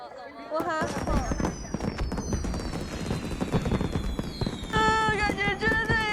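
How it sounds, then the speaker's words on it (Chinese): Fireworks burst at the close of a winter-season dating show, a dense run of loud crackling pops and booms with whistling tones rising above them, while people talk and exclaim over the bangs. "大家一起看烟花吧！"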